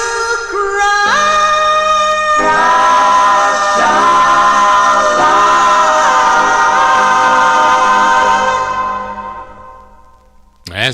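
A doo-wop record with a lead tenor plays loud, with a sustained vocal harmony chord that holds and then fades out at the end.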